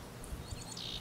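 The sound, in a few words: birds calling outdoors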